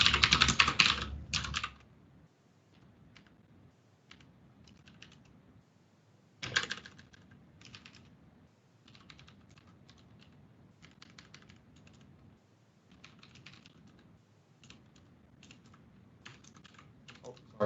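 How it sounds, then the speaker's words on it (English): Bursts of typing on a computer keyboard while working through a Java coding problem, a loud flurry at the start and another around the middle, with lighter scattered keystrokes in between. "Sorry, I can't type today."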